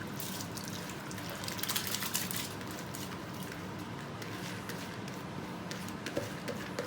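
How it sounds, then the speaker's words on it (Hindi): Sela rice being tipped into a pot of boiling water makes a steady watery rush and bubbling churn with soft splashes, moderately loud and without speech. "अब हम इसमें चावल ऐड करेंगे।"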